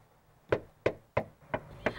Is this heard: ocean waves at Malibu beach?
no